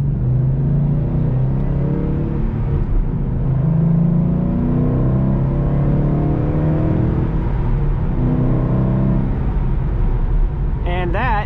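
A stock 2012 Mustang GT with the 5.0 V8 accelerates gently onto a freeway while still cold, a steady low engine drone and road rumble heard from inside the cabin, with someone talking over it.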